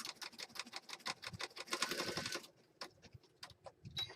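Electronic sewing machine zigzag stitching over a small piece of fabric: fast, even rapid-fire needle clatter for about two and a half seconds, then a few slower, isolated ticks and clicks, close and fairly quiet.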